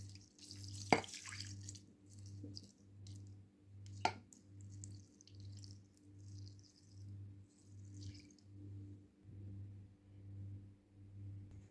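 Water is poured carefully into rice in a baking dish for chicken legs baked with rice and vegetables; faint dripping and a couple of small splashes sit over a steady, pulsing low kitchen hum, with no talking.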